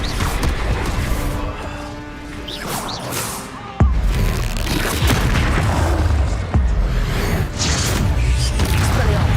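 Incendio fire spell cast in Hogwarts Legacy during combat, a whooshing burst with a sharp impact crack and loud fiery rumble, amid other spell hits and battle noise.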